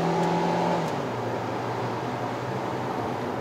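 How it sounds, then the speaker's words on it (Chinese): A 2015 Kia Rio facelift with a 1.4-litre engine hums steadily from inside the cabin while driving, a broad low drone with road noise and no talk. "引擎声音"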